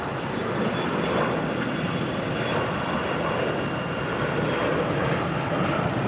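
An American Envoy Embraer E175 regional jet departs Tampa airport, a continuous broad jet engine roar at moderate distance holding steady throughout.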